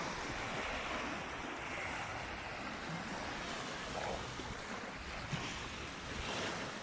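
Sea waves wash steadily onto a beach in the evening, a continuous broadband surf roar with gusts of wind buffeting the microphone, no voices present.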